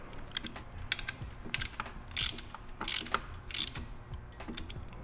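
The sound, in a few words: ratchet tightening 6mm hex bolts on RSV4 clip-ons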